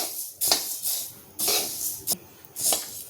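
Coriander seeds dry-roasting in a pan, stirred in four or five separate scraping, rustling strokes, close by and fairly quiet, with no talking.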